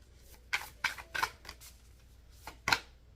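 Tarot cards shuffled by hand in short papery bursts, about six riffles and slides spaced irregularly over a few seconds, close and fairly quiet with no talking.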